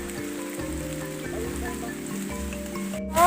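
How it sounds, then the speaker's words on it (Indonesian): Heavy rain falls steadily along a bushy mountain trail on the Panderman route up Mount Buthak, a continuous hiss of downpour running beneath sustained tonal background sound, with a brief louder rustle near the end. "Hujan masih terus turun, sangat deras."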